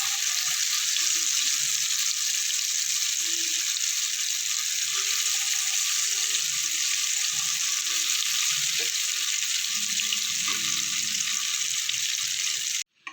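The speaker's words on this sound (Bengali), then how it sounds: "তেলটা আমার গরম হয়ে গেছে, এবার এগুলো ধোকাগুলো ভেজে নেব।" Dhoka lentil cakes fry in hot oil in a kadai over a high gas flame, giving a steady loud hiss and crackle throughout, with faint clinks of stirring, until the sound cuts out abruptly at the end.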